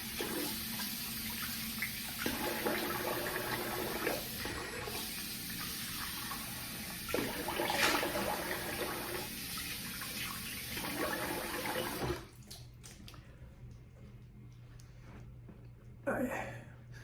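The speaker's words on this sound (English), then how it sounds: "let's rinse the face" Tap water runs steadily into a sink while a face is rinsed after a razor shave, a faint continuous splashing with small surges, stopping near the end followed by a brief splash.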